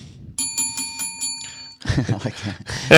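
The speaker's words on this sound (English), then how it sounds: "Dinner bell." A bell rings in a quick run of five bright, sharp strikes, close and loud against a quiet room. A burst of chatter and clatter follows.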